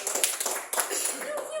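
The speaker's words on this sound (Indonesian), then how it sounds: "Tepuk tangan dong" A school group of children claps briefly for a classmate team in an Indonesian classroom, producing a short burst of quick, busy clapping mixed with voices.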